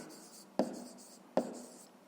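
A pen writing on paper during a fifth-grade maths exercise on a triangle's perimeter, heard as two short, crisp scratching strokes about three-quarters of a second apart against a quiet background.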